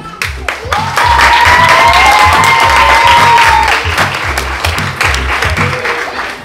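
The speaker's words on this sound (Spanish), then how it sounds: "Aplauso para la O." A crowd claps steadily and loudly throughout, a dense applause with a strong rhythmic beat underneath and a few scattered cheers.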